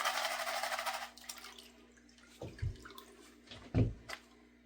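Water rinses and splashes over very dirty material being washed, a steady rushing spray that stops, then a few louder sloshing bursts near the end.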